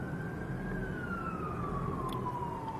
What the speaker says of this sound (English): Pardon the sirens there, we're in New York.